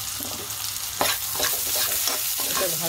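Vegetables stir-fried in a hot pan for a village-style dal with prawns, a loud steady sizzle broken by repeated scraping strokes of a spatula, close by and with no voices.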